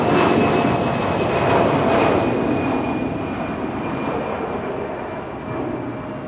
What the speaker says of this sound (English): Sounds like we got an A319 up for departure. And we do. Delta A319.